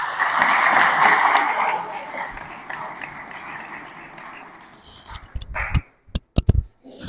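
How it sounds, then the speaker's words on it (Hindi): Applause in a classroom session, a dense burst of clapping that is loud at first, then thins and fades into scattered claps and noises. "ताली।"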